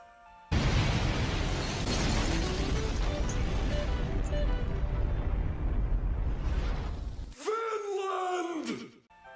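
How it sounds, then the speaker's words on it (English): A tower blows up in a video game, a loud sustained explosion with crashing rumble that runs for several seconds, cuts off abruptly, then gives way to a rising, wavering tonal sound. "we blew that tower up"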